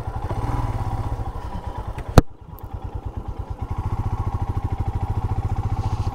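A motorcycle rides off-road over a very bad, rough road, its engine chugging in a steady pulsing rhythm close by, with one sharp clattering thump from a bump partway through.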